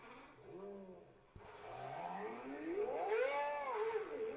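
A high-revving Porsche Carrera GT engine played back as a recording, its pitch sweeping up and down in rising revs across a few seconds, fairly quiet and thin as if from a small speaker.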